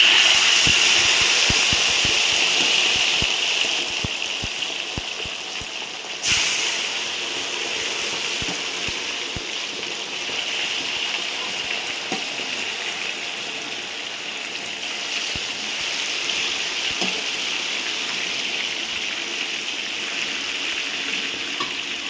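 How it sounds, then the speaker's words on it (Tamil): Marinated chicken deep-frying in hot oil for a large home batch of onion chicken, giving a steady, dense hiss that runs loud and unbroken throughout, with scattered faint clicks underneath and no voices. "இந்த மாதிரி முக்கால் பொரியலாக பொரித்து எடுக்கணும்"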